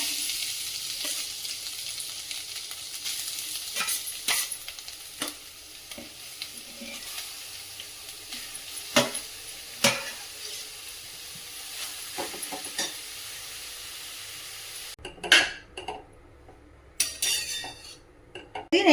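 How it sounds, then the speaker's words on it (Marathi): Grated carrots are stirred and sautéed in ghee in a kadhai, giving a soft steady sizzle close by, punctuated by scraping and the clink of a spatula against the pan, with a brief quieter gap followed by more stirring clatter. "हे अर्धा किलो गाजर स्वच्छ पाण्याने धुवून आणि किसणीने किसून घेतलेले टाकून व्यवस्थित परतून घेऊया"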